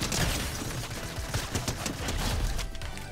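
Rapid SMG hip fire in Fortnite, loud bursts of quick repeated shots forming a dense, continuous rattle over about three seconds.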